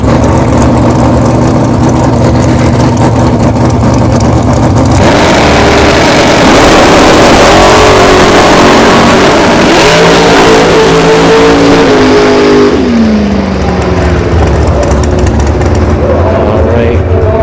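A dragster in an NHRA bracket drag race launches at Bradenton Motorsports Park, its engine roaring loud and close. The revving note rises and falls as the car races down the strip, with announcer talk running over it.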